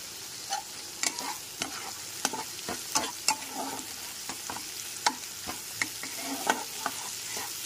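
Roasted spice mix cooks with tomato paste in a pan, a soft sizzle under repeated scraping strokes of a spoon at an irregular, unhurried rhythm.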